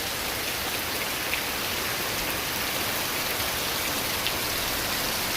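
Steady rain falls after two days of downpour that have flooded the area, a dense, even hiss of drops on surfaces with no breaks, filling the whole space at moderate loudness.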